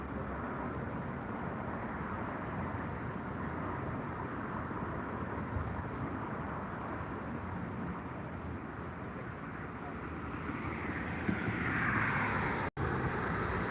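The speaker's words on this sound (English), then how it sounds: "Small plane's coming in right now." A small plane comes in to land at Albany International Airport, its engine a steady, fairly distant drone that grows slightly louder near the end under broadband outdoor noise, with no talking.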